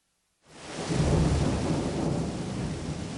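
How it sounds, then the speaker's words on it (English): A thunderstorm breaks in with a sudden rumble of thunder, then heavy rain pours steadily and loudly, with no voices. "The onset of a thunderstorm almost always includes strong gusts of wind and heavy rain."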